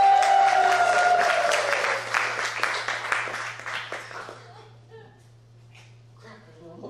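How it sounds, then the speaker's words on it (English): Audience applause during a magic show, loud at first with dense clapping and a few cheers, then thinning out and fading to scattered claps as voices murmur over it. "the applause should get more and more"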